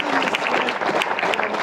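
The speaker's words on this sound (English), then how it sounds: "Warm round of an applause for" A full, even round of clapping from the crowd at a university awards ceremony, dense and fairly loud throughout a short stretch without pauses.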